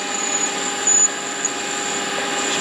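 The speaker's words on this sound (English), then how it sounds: "So this 6mm I need to drill in pretty much all of the twist of the drill" A 6mm drill bit bores a hole on a Warco mini lathe, giving a steady, high-pitched mechanical whine with a faint squeal that holds constant and close, without any talking.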